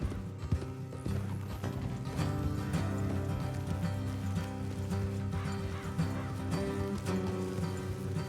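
Horses trot in Red Dead Redemption 2 with rhythmic clip-clop hooves over a bed of music, and a neigh rings out briefly, fairly close and steady throughout.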